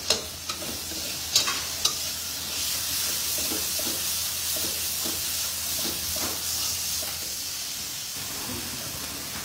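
Spices stir-fried in a pan for an aloo gobi matar masala, with a steady sizzling hiss and a few sharp clinks and scrapes of a spoon against the pan.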